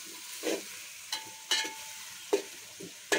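Onions frying in masala for a chicken curry, with a quiet, close sizzle broken by several sharp spatula scrapes and stirs at irregular intervals.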